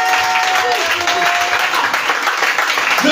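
A church congregation breaks into sustained, loud applause, a dense wash of many hands clapping continuously throughout, with voices mixed into the crowd noise.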